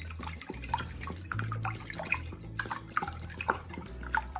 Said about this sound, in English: We just need to add some vinegar.